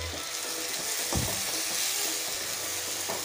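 Tomato puree sizzles and crackles steadily in a hot frying pan, with a spoon scraping and stirring now and then.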